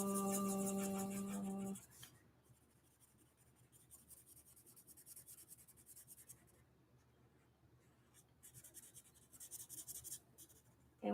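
An orange marker draws on paper in soft, close scratchy strokes that come in irregular bursts, following a loud steady tone at the start.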